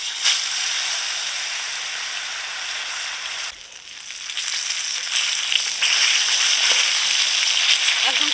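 Hilsa fish tail, rubbed with salt and turmeric, frying in hot oil with a steady, close, broadband sizzle that dips briefly midway, then resumes loud and continuous without any talk.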